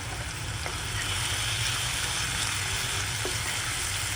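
Loud, continuous sizzling of potatoes frying in a hot pan with curry leaves just added, a dense steady hiss close up with a couple of faint scrapes of stirring and no talk.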